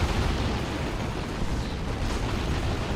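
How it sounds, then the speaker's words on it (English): Plasma cannon hits from a Tyranids versus Orks match in Dawn of War 2, a dense, loud rumble of explosive blasts and booms blending into continuous battle noise. "That is plasma cannon damage on those things."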